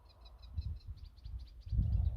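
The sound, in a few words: unidentified bird singing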